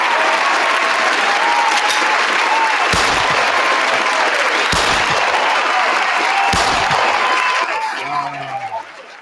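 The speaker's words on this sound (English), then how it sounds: "I gotta give y'all the claps and the gunshots." An applause sound effect plays as a loud, dense crowd clapping, punctuated by three sharp gunshot-like bangs. The clapping fades near the end, where a voice briefly comes in.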